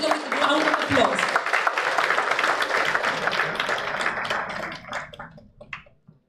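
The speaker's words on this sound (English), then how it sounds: "Please welcome a round of applause." An audience applauds to welcome chief guest Shri Damodar Mauzo, a writer, at a formal gathering; a dense, steady wash of clapping mixed with voices that thins out and fades over the final seconds.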